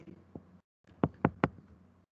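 A few sharp knocks on wood: one soft tap, a short pause, then three firm, evenly spaced raps close by, with faint room noise between.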